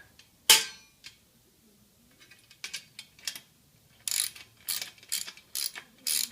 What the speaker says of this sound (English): I really needed a socket wrench.